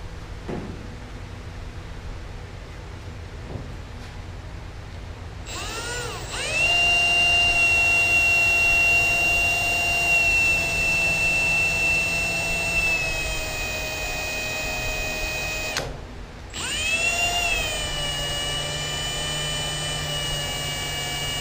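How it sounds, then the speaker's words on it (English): A power drill whines steadily while drilling into a Mustang's frame during a roof swap, its motor pitch rising as it spins up, briefly stopping, then starting again with a loud, continuous mechanical hum. "I think this might be drilling into the frame."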